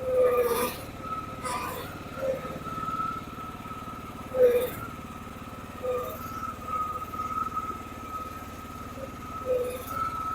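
A Husqvarna TC114 lawn tractor engine idles low after the throttle is eased back, a soft steady rumble running underneath intermittent squeaks and light clunks.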